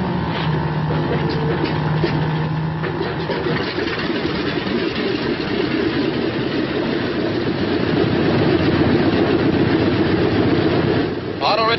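A B-26 bomber's piston engine roars steadily and loudly at close range with little variation, mixed with rumble and a voice speaking over it.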